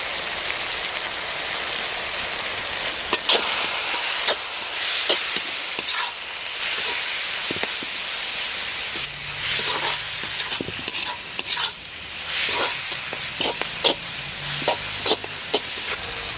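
Onions and capsicum sautéing in a pan with chilli powder and garam masala for chilli chicken, a steady loud sizzle broken by repeated scraping strokes of a spoon as the mix is stirred, with no talking.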